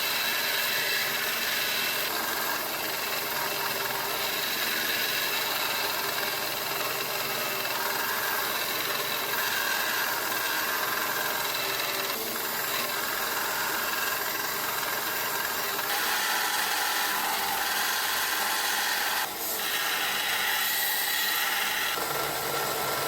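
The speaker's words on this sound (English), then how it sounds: "Here I'm just using the wheel on the grinder to come in and kind of isolate the tang and actually create the tang shape." A bench grinder wheel cuts into the steel of a forged sgian dubh blade, shaping its tang; a steady, loud, continuous grinding whir runs throughout with slight shifts in pitch and pressure, and no talking.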